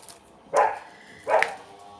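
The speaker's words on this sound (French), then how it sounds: "Il fait bon, les chiens sont dehors, la porte est ouverte." Two short dog barks from outside on a mild day, spaced about a second apart, fairly close and clear with no talking over them.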